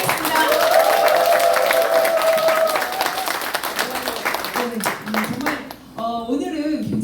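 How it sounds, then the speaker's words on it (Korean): An audience at a Korean business membership-day event claps to open the program, sustained applause under a host's voice and background music, thinning out after a few seconds as speaking takes over. "여러분들의 큰 박수와 함께 시작하도록 하겠습니다"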